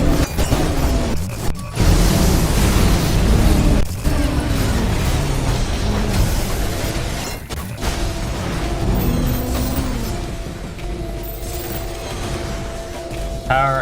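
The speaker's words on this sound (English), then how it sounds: "Power of an explosion." Booming explosions and crashing blasts from the ULTRAKILL video game, loud and dense, layered with continuous chaotic combat effects for the whole stretch.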